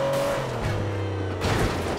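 A video game car runs without its front right tire, its engine holding a steady droning tone with shifting pitch, while scraping and squealing noise swells briefly toward the end.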